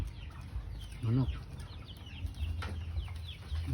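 A native chicken clucks in short, throaty bursts close by, amid faint background noise, while it feeds on saba banana leaves.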